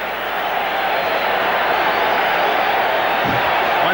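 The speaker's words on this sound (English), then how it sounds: "Once again, the cry from the crowd, let's go Mets" Baseball crowd at a 1984 Phillies–Mets game at New York filling the stadium with a steady, dense roar of massed voices, a sustained chant-like wash that holds level throughout.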